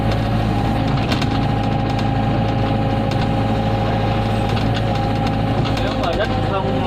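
A mini excavator digs along a rocky road, its diesel engine droning loudly and close with a constant rumbling vibration and occasional knocks and clanks over the top.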